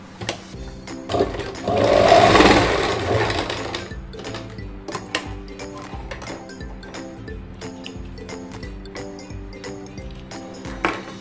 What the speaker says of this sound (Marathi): इथे मी एक शिलाई देऊन घेणार आहे